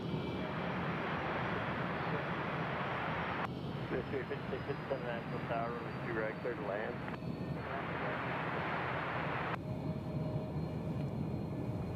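A jet taxiing at Nashville International Airport gives off a steady engine roar and whine. Radio chatter and talk sit over it partway through.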